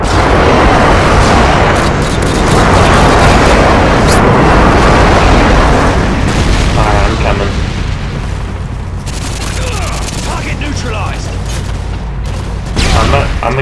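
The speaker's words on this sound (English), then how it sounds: "Friendly airstrike inbound." Heavy, continuous airstrike explosions rumble loudly in the video game Nuke Hunt team deathmatch, a sustained barrage of booms that thins out later with scattered blasts while a player talks.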